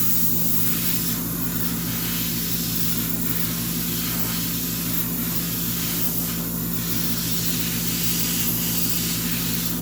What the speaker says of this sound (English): I really like these golden air colors. They spray really nicely.